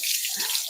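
A thick dark chocolate coffee drink pours out in a brief, close, steady splashing trickle that lasts under a second with no voices.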